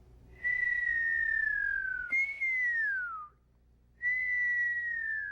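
A person whistles alone, holding a long descending note, then a shorter falling one, a brief pause, and a third steady note, loud and close.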